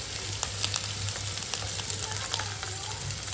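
Masala fry sizzling steadily in a pan, a continuous close crackle and hiss with a low hum underneath, no talk.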